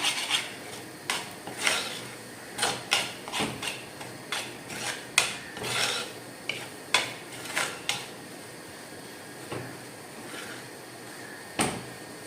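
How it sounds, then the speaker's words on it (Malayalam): Spice powders for a crab roast are mixed in a pan, giving a string of sharp metallic clinks and scrapes that come in irregular bursts, near and fairly loud, with no talk. "പൊടികളൊക്കെ നമുക്ക് നന്നായിട്ടൊന്ന് മിക്സ് ചെയ്തെടുക്കണം"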